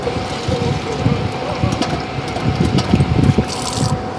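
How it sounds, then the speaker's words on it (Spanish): Water runs from a public drinking-water dispenser in Rome into a refillable bottle, a steady close gushing stream with faint clinks and pump-like hum, and some voices heard underneath. "voy a rellenar el agua aquí."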